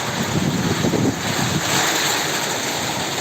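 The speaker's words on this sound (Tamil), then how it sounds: "இப்போ காற்று பயங்கர காற்று அடிக்குது" Strong wind roars steadily through a rainy outdoor setting, a loud broadband rush that swells and eases slightly with no voices.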